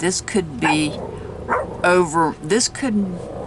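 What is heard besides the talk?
dog barking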